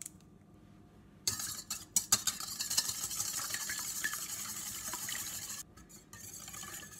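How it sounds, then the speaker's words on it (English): Three eggs are whisked together in a bowl, a close, continuous scraping swish of a whisk against the bowl with a few sharper knocks at the start, fairly soft overall. "we're going to put in another bowl 3 eggs, and we're going to whisk them together."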